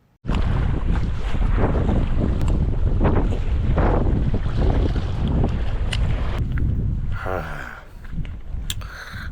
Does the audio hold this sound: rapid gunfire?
no